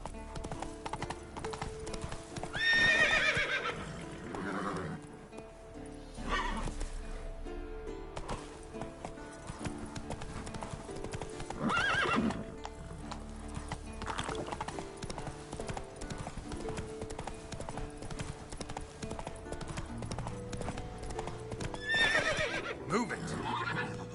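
Roach, the horse from The Witcher 3, gallops with loud, rapid clip-clopping hooves and neighs several times in short whinnies spaced through the run. Game music and ambience play underneath.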